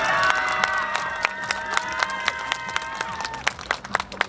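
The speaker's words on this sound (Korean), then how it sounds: "큰 박수 한번 부탁드리겠습니다." A crowd at the opening ceremony of a scallop and seafood festival in Goseong applauds and cheers, with scattered claps and voices over ringing, sustained tones, the clapping growing sharper and more distinct toward the end.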